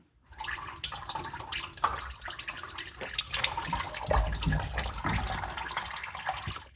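Engine oil draining steadily into a pan from the oil filter mount of a 1994 Chevy K1500 pickup, a continuous close splashing trickle with small gurgles, no talk.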